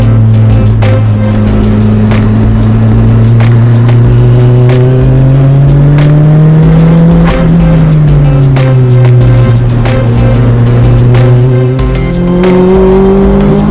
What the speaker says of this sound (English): Here we are, the my little Lotus, Toyota powered turbocharged in 4th gear coming over the bridge.